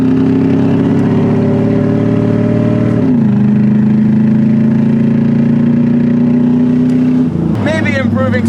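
A cheap used daily-driver car engine idles steadily while being checked for a misfire, holding a low, even drone that dips slightly partway through and then revs up briefly near the end.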